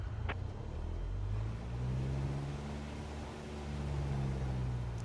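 A light aircraft engine in Microsoft Flight Simulator 2024 revs up steadily during taxi, a low droning hum that swells and eases in pitch, moderately quiet and unaccompanied by voices.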